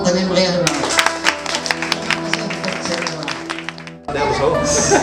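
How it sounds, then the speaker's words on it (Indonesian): Audience applause at a Gawai Adat ceremony in Dusun Kempas II, Sintang, a dense burst of many hands clapping that runs about four seconds under a steady musical drone, then stops abruptly. "kita beri tepuk tangan meriah dulu"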